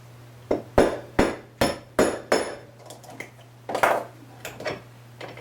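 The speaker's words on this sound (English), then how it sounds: "then you just take a hammer" A hammer taps a small pin into a One Step Looper pedal in a series of sharp metallic strikes, several quick taps followed by a few lighter ones over a steady background hum.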